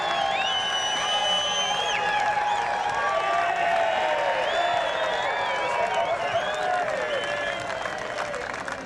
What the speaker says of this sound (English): Ladies and gentlemen, can we give them a great round of applause?